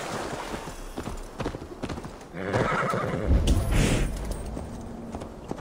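A horse whinnies loudly midway in Assassin's Creed Valhalla, with hooves clopping before and after, close and prominent against background ambience.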